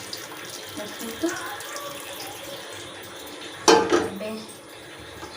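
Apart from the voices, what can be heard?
water being added to a cooking pot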